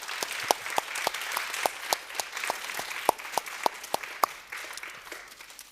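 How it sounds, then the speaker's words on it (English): Scattered applause from a modest audience at a talk on biodiversity and EU nature restoration policy, with sharp individual claps standing out clearly over a soft background of clapping for the speakers and organizers. "I invite you all to give an applause to our speakers and the organizers."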